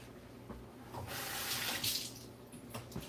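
Water runs steadily from a kitchen tap as fresh steaks are rinsed, a soft, continuous splashing hiss that swells slightly midway and stays fairly quiet throughout.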